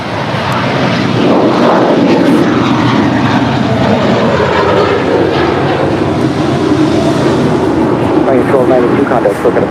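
An Airbus A321 airliner taking off at LAX, a steady, loud, broad engine roar that holds at constant strength throughout with no talking.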